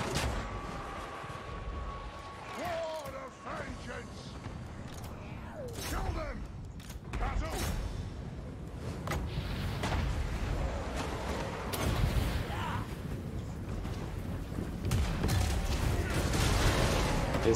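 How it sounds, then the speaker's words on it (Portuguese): Mortar fire during a Total War: Warhammer 2 battle with dwarf forces under Thorek. Repeated booming shots and clanking impacts punctuate a dense, rumbling din of battle that grows louder toward the end. "Temos um morteiro atirando na gente."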